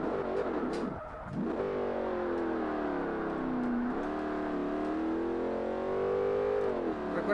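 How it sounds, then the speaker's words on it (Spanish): A Pontiac GTO race car engine in the video game Forza Motorsport drones and revs steadily at Road America, pitch dipping sharply once then climbing and holding a high whine. "Suena delicioso este carro."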